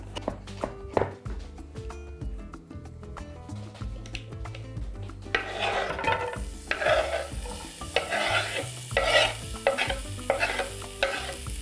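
Chopped onion, two medium heads finely cut, frying in a pan while being stirred: soft sizzling that rises after the first few seconds, with scraping stir strokes and light clatter continuing throughout, close by and moderately loud.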